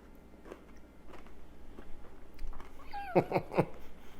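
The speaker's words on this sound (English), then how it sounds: "Can you hear that crunch?" A few crisp crunches from a bite into the caramelized sugar crust of a chocolate crème brûlée, three sharp snaps close together near the end after a quiet stretch.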